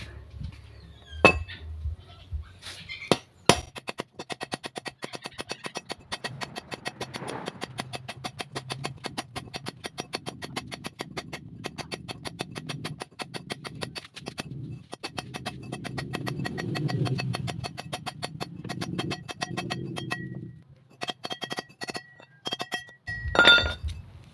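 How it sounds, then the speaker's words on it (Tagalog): Metal parts of a used-oil stove burner are struck with a hammer, sharp clinking blows scattered irregularly through the clip, loud and close, with a dense run of hits early on and a final burst near the end. "mamartilihin ulit natin pupukpukin natin para magsama ulit sila"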